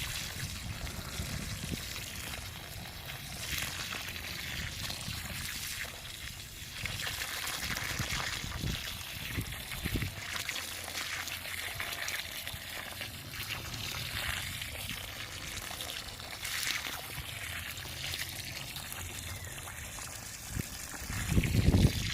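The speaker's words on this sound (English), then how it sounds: "keep filling up the well of water" Water trickles and pours into a soil well dug around a newly planted olive tree, a steady close gurgling flow that runs throughout, with a brief louder splash near the end.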